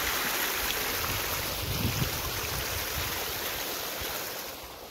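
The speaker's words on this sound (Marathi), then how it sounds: "तळ्यात तर पाणी पडतं" Water from a motor pump pours steadily into a pond outdoors, a dense, continuous rushing splash that stays loud and even before easing slightly at the end.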